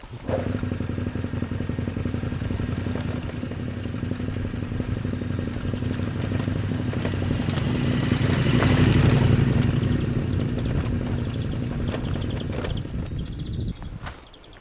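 A motorcycle loaded with luggage rides down a steep step on a Corsican trail. Its engine drones steadily and close, with rattling clatter that swells in the middle before easing off.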